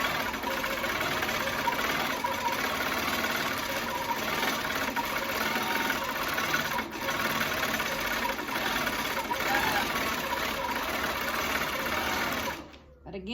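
A quilting machine stitches a meander pattern in a steady, rapid mechanical whir with a continuous rhythmic clatter, close up, before stopping abruptly near the end.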